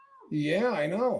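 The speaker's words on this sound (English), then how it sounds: "that's a cat in a basket" A cat in a basket lets out one long, wavering meow that rises and falls, close and clear, just after a person says a few quiet words.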